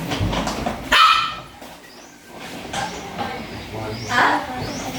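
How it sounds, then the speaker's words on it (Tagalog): A dog barks and yips a few times close by, sharp bursts spaced across a few seconds, with people talking around it. "May alaga palang aso si Kuya."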